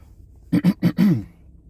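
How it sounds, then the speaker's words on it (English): A person clears their throat with three short rough bursts followed by a longer gravelly one, close and isolated. "let me clear my throat again"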